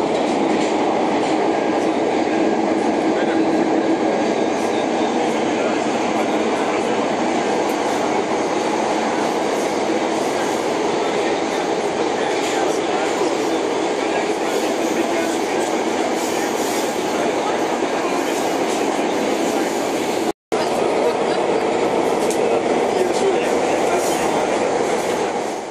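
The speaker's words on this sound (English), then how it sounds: "This is Metro Line M4 in the direction of" Continuous loud rumble and rolling hum from inside a Budapest M4 metro train in motion, with steady track noise and a brief dropout near the end.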